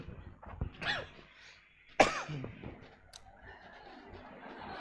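A single sharp cough bursts out near the middle, preceded by quieter throat sounds and followed by low room noise.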